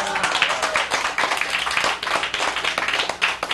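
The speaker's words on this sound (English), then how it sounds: "Let's give her a round of applause one last time" An audience applauds after a card trick, with dense, lively clapping from a fairly close crowd, sustained steadily throughout and rising and falling slightly in intensity.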